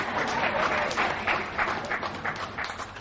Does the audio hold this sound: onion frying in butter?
no